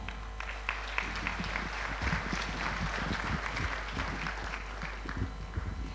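Audience applause at the end of a conference talk at Impact Indonesia 2022: a steady, dense patter of many hands clapping, fairly faint and distant, continuing evenly throughout.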